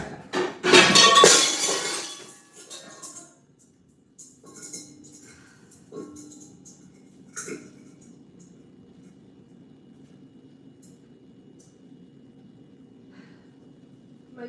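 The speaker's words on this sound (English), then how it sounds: "Domed cake server just fell off the top of my fridge. Glass is literally everywhere." A glass domed cake server drops off the top of a kitchen fridge and shatters in one loud, bright crash, followed by scattered tinkling fragments and a quiet room hum.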